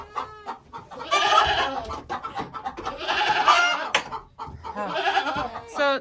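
Hens in a coop during laying time cackle loudly in three long bursts of repeated squawking clucks, close and raucous, with short quieter gaps of softer clucking between them.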